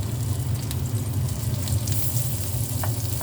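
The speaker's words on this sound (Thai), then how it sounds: "เจียวกระเทียมมันก่อนเลยนะคะ" Garlic frying in hot oil in a pan for a Thai stir-fry of pickled mustard greens with glass noodles, a steady, close sizzle with no break and no voices.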